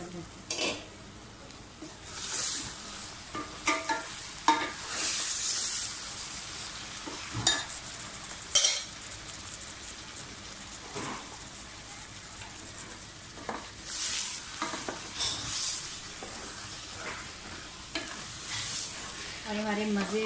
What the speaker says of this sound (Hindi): इसको अच्छी तरह से भून लें। इसको आप सरसों के तेल में बनाएंगे